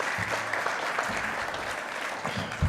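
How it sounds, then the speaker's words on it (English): Generous round of applause from a conference audience for the speakers at a closing plenary, a steady dense patter of many hands clapping throughout, moderately loud and close. "can I get you to please give a generous round of applause to our speakers, Margaret Rosenfeld, Elizabeth Tullis and Peter Walk."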